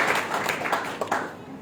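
A church congregation at a revival meeting claps together, a steady dense patter of many hands filling the brief moment at even loudness.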